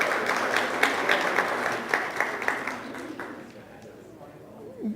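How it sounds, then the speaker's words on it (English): A church congregation at a Sunday service breaks into applause, a dense patter of clapping that swells briefly and then fades away, leaving a quieter room with a faint voice near the end. "Well, that deserves some applause."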